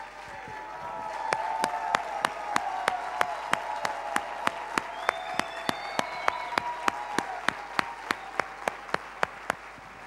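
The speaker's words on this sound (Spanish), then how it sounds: "vamos a pararnos de pie y vamos a darle un aplauso a nuestro Padre Espiritual." A standing church congregation applauds with a steady, rhythmic clap that beats in unison at a regular pace, moderately loud over a softer wash of scattered clapping and faint voices.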